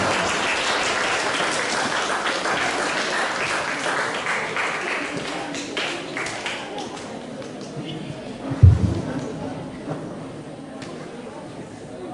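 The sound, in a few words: audience applause for a speaker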